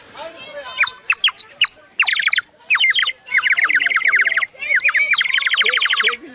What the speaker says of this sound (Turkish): düdük öttürme tekniklerini alıyoruz